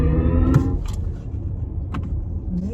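BMW iX xDrive50, a 516-horsepower electric SUV with its synthetic iconic driving sound switched on, pulling away hard: a steady humming drone with rising tonal layers, close and continuous.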